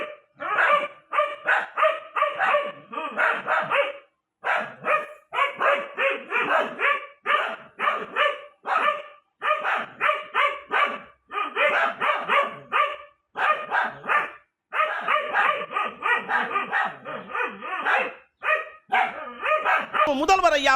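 A dog fighting a snake that has come into a house, barking loudly and close in rapid, continuous bursts with yips and brief pauses throughout.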